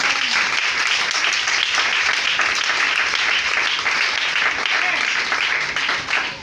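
A church congregation at an Easter service, welcoming visiting pastors from Ghana, claps in loud, dense, continuous applause for several seconds, with crowd voices mixed in.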